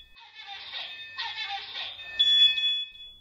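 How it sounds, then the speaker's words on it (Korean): A single-station smoke detector sounds during a simulated smoke test, giving a shrill electronic alarm in repeated warbling bursts, fairly close, with a steady high beeping tone at the end. "곧바로 경보음이 울립니다."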